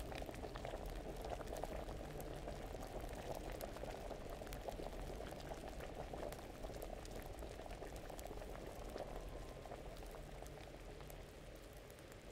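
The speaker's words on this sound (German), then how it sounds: "Jetzt kocht das, okay." An alchemy brew bubbles in a pot during an in-game crafting scene in Kingdom Come, a steady, even rolling boil heard alone throughout.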